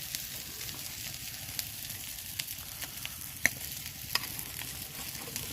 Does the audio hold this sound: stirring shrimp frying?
yes